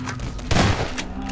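A bomb rifle fires at zombies in the first-person shooter Transmission Element 120. It sounds as a dense, loud burst of gunfire blasts over steady game background noise.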